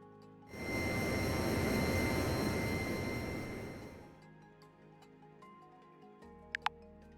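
A plane in a flight simulator game spools up and roars down Runway 01 on its takeoff roll, a loud, steady engine rush with a high whine that cuts off abruptly, leaving faint ticks and a couple of sharp clicks.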